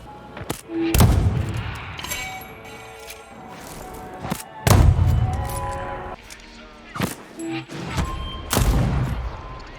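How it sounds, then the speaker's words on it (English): Gunfire in the video game Deathloop with audio out of sync with the shots: sharp, loud single blasts and short bursts at irregular intervals, each followed by a low thudding tail and a brief ringing decay. "The guns firing, the audio desyncs."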